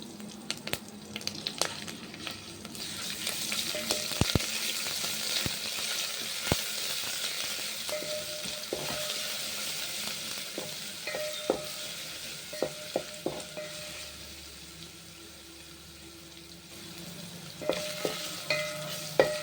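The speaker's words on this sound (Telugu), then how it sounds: "ఇప్పుడు ఒక రెండు రెమ్మలు కరివేపాకు వేస్తాను అలానే వన్ స్పూన్ అల్లం పేస్ట్" Curry leaves and ginger paste fry in hot oil for pepper rasam, a steady close sizzle broken by clinking strokes of a spoon stirring the pan, with no talking.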